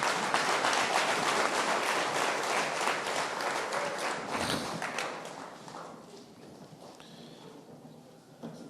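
Audience applause in a church, dense clapping that is loud at first and then thins and fades over the last few seconds to a quieter room.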